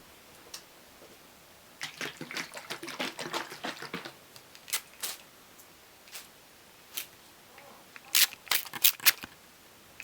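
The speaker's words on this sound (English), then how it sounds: "I could even spray your face a tiny bit because of the heat." A spray bottle spritzes water in short bursts, close to the microphone. A quick cluster of sprays comes early, isolated puffs follow, and a final tight group of sharp hissing spritzes closes the sequence in a quiet room.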